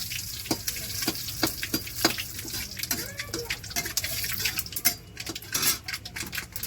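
Panch phoron seeds and a bay leaf fry in hot oil on a chulha stove, sizzling steadily with sharp popping crackles and scraping stirs.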